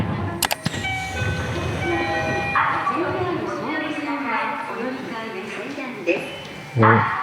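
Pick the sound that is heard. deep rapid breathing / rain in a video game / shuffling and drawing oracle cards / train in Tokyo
train in Tokyo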